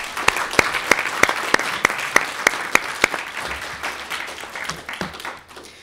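An audience at a student government candidate forum claps for a candidate, with several loud, evenly spaced claps close by over a dense bed of applause that thins and fades toward the end.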